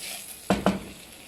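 Vermicelli toasting in a pan, with a steady sizzle and two quick close scraping stirs of a utensil against the pan, no voices.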